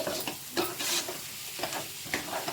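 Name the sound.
mixing okra fry with red chili powder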